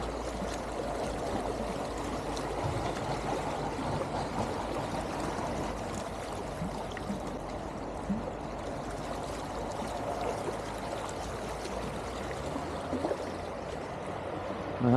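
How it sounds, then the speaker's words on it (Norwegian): Tidal current rushing through the Saltstraumen strait in Finnmark, a steady, dense roar of fast-flowing water heard close and continuous for the whole stretch, with no voices. "Det er bare å fosse på noe så vanvittig"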